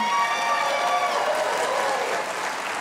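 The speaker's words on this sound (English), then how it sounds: "Oh, I love to get applause." Steady audience applause fills a dinner hall at a correspondents' dinner, dense and sustained throughout with faint crowd murmur, easing slightly toward the end.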